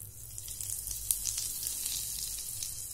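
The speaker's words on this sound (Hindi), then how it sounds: "ऑयल जब गर्म हो जाए तो इसमें सबसे पहले हम डालेंगे हींग" Asafoetida hitting hot oil in a pan for bhindi fry, giving a steady close sizzle with faint crackles and one brief sharp pop.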